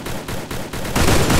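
Rapid automatic gunfire from the battle-royale shooter Free Fire in a clash squad match, a loud continuous burst of shots that swells louder near the end.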